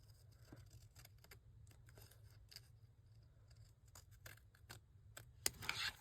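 Scissors cutting through an index card, with a series of crisp snips over a faint low hum that grow louder and denser toward the end, close and quiet.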